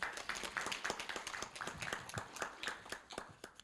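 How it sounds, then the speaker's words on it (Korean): Audience at a Korea University startup event applauds, sharp overlapping claps in a steady rapid patter, moderately close and sustained for several seconds without speech. "큰 박수로 맞이해 주시기 바랍니다."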